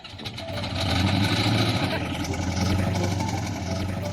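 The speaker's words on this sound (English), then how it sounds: "people pay big money to have their engine sound like that" A car engine turns over and settles into a loud, rough, rumbling idle, with a voice speaking briefly over it.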